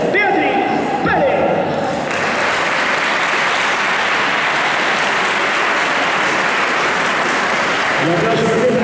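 A crowd applauds steadily for several seconds after a Spanish junior women's compound archery final in Benalmádena. A voice speaks briefly at the start and again as the clapping fades near the end.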